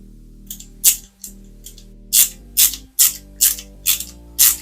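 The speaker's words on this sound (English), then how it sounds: "with our AP screws, we're going to screw these together" Hand screwdriver clicking in a ratcheting rhythm while driving small AP screws into plastic Toyota Supra MK4 model parts, about eight crisp, close ticks at a steady pace with no talk.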